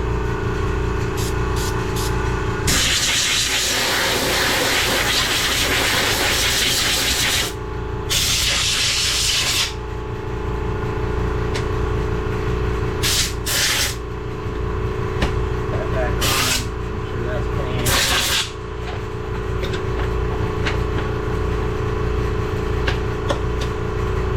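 Carb cleaner sprays out in several hard, hissing blasts, one long burst and a few shorter ones, over a steady engine-like drone.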